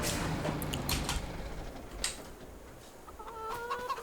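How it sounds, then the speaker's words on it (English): Chickens with an empty feed trough cluck in the farming game Farming Simulator 25, with scattered clucks over a noisy farmyard background and a clearer, tonal call near the end. "Sorry chickens, yes I know, you've got plenty to complain about, no food in your trough"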